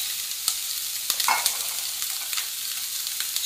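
Spring onion, red pepper and butternut squash sizzle in a pan, a bright continuous fry broken by a few scraping stirs and small clicks, close by with no voices.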